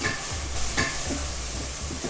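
Chicken with onion and spices fries and is stirred in a pot for Hyderabadi chicken korma, a continuous sizzle broken by scraping stirs, close and with no one talking.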